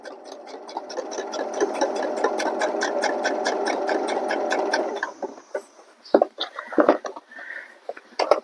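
A sewing machine stitches a patch onto a worn area of a pair of jeans, running in a steady, close whir for about five seconds before stopping, followed by scattered clicks and fabric handling.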